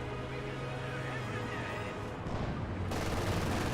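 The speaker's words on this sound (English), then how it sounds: "M242 firing against the rifleman" Gunfire rings out in a Company of Heroes 2 battle as an M242 fires on riflemen, with rapid shots and bursts under a thick layer of battle noise and a faint voice, growing denser toward the end.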